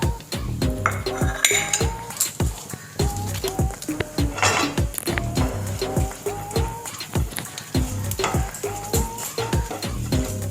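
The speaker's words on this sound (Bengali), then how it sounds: "এলাচ, লবঙ্গ, দারচিনি, তেজপাতা ফোড়নগুলো দিয়ে দিচ্ছি।" Whole spices, cumin, cardamom, cloves, cinnamon and bay leaf, dropped into hot oil in a frying pan for pulao, with repeated metallic clinks and scraping of a utensil against the pan over a low sizzle.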